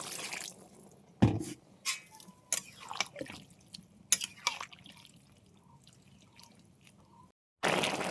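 Water is poured into a pan of Malabar spinach (pui shak) being cooked with sugar, with bursts of splashing and dripping, scattered clinks and a loud rush of liquid at the end.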